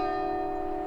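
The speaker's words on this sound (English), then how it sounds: "there we have the bells of St. Peter's Church" Church bells of St. Peter's Church ringing in East Sussex countryside in the morning, a steady sustained bell tone with strong lingering hum, heard at moderate distance outdoors with no talk.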